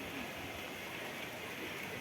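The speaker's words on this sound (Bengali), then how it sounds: "পুরোটা বৃষ্টি পড়ছে এখন" A steady, even hiss of rain falls without pause with wind, dense and constant over a short stretch, at Kankalitala, West Bengal.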